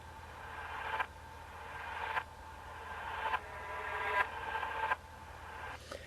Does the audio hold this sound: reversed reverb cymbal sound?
yes